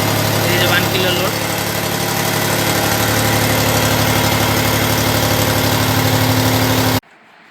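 A three-cylinder petrol engine on a Morse test rig runs steadily and loudly for about seven seconds with an even droning hum, then cuts out abruptly.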